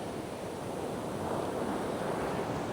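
Surf breaking on a beach, a continuous broadband wash of waves and foam with some wind noise, steady and fairly loud with no voices.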